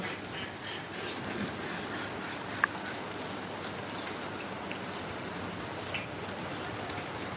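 Heavy rain falls steadily, seen from a balcony, a dense continuous hiss of drops hitting surfaces, with a few sharper splats standing out and no voices.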